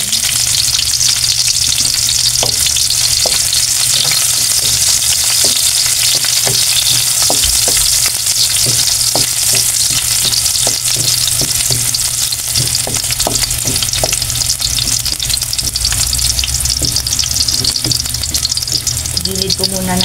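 Onions sautéing in a pan make a loud, constant frying sizzle, with frequent clicks and scrapes from stirring, close up and unbroken for the whole stretch.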